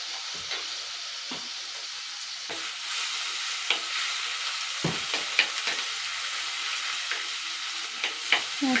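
Crushed small onions sizzling in hot oil in a pan for fish curry, a steady frying hiss broken by occasional stirring clicks and scrapes, close and clear with no talk.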